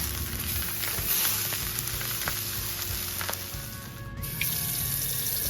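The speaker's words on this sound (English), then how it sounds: "I'm gonna fill that with water." Tap water runs into a favorite pot on a kitchen stove while food sizzles in a pan nearby, a steady rushing splash over frying crackle that briefly dips near the end, with no one speaking.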